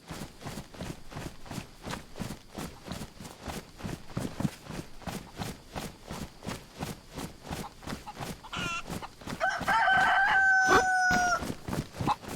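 A chicken in the DayZ video game on the Chernarus map clucks over rhythmic footsteps, then crows once loudly near the end.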